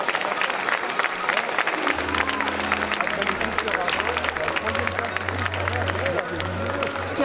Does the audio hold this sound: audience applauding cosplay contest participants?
yes